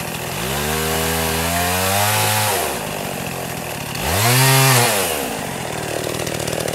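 Chainsaw cutting through fallen wood in the aftermath of Hurricane Irma, the engine revving up twice as the bar bites into the log, loud and close with no talking.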